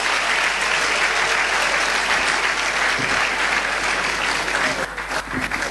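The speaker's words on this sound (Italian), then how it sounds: "La serata lo voglio sentire con un applauso." An audience at an evening show in Atessa, Abruzzo gives a dense, continuous round of applause, loud and close for several seconds before tapering slightly at the end.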